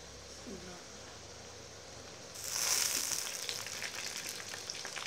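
Tomatoes hit a pan of fried onions with a sudden loud sizzle that swells and keeps crackling steadily, close by, after a quieter start.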